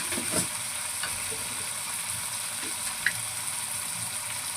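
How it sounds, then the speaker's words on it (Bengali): Spices with potatoes frying in a pan for a crab curry, giving a continuous close sizzle with occasional soft scrapes and taps from stirring, steady throughout and free of talk. "ভালো করে কষিয়ে নেব মশলাটাকে, আলুটাও সিদ্ধ হয়ে যাবে কষাতে কষাতে"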